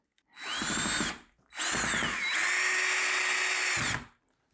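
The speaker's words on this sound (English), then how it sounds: "a helping hand with the drill bit, and I'm going to put it right about where that mark is." A power drill whines in two bursts, a short one then a longer run, its motor pitch rising and dipping as it bites into a wall, close by.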